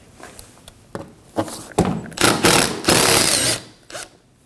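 Screws being backed out of a grille panel on a 2015-2024 Ford Edge, heard as a run of close mechanical whirs, clicks and ratcheting bursts that grow louder and longer toward the middle, with brief knocks between them.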